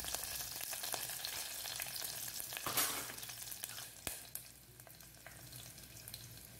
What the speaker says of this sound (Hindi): अभी इसमें हम हरी मिर्च डालेंगे। आप अपने हिसाब से तीखा कम ज़्यादा कर सकते हैं। और थोड़ा सा करी पत्ता डालेंगे।